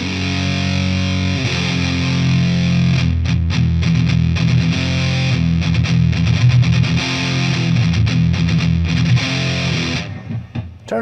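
An electric guitar played through a Marshall DSL overdrive pedal strums heavily distorted chords, loud and sustained, with rhythmic chopped strums in the middle before ringing out at the end.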